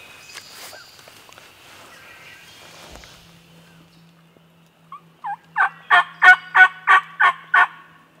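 A wild turkey gobbles in a rapid series of about eight loud, rhythmic pulses after a quiet stretch of faint rustling, heard on Ohio public land during spring hunting.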